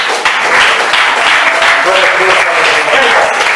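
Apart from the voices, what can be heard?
congregation applauding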